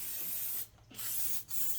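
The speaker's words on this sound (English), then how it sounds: "let's hit it with some brake parts cleaner" Brake parts cleaner is sprayed onto a Chevy Tahoe 5.3L engine in two close, loud hissing bursts separated by brief pauses, with no voices.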